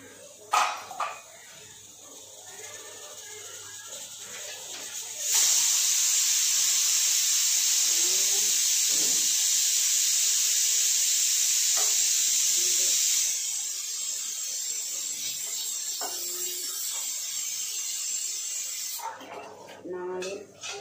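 A loud, steady hiss of steam rushes out of a pressure cooker cooking chicken curry for several seconds, then eases to a softer hiss, with brief quiet clatter before and after.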